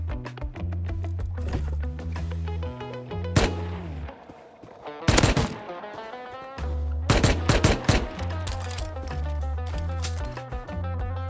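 AK rifle fire in a survival video game sounds in several loud bursts of rapid automatic shots, with sharp reports and echo. Between the bursts a low droning hum from the game's background continues.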